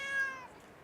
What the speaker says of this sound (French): une vidéo de petit chat tout mignon qui fait ouh quand on lui met le doigt sur le ventre